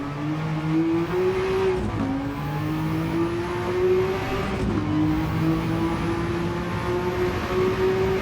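Porsche 962 C race car engine at Spa in Gran Turismo 7, charging downhill with a loud, sustained whine that climbs steadily, dips at two quick gear shifts and climbs again, heard alone and close.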